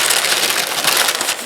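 Parchment paper crinkles and crushes steadily while orange cranberry scone dough is rolled inside it and pressed back into a lump, a close, continuous rustling with no talk.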